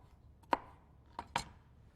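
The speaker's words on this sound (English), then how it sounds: "I'll cut that piece up just a little bit more." A knife chopping salad ingredients on a cutting board gives three sharp, quiet cuts: one alone, then a close pair a little later, with no talk.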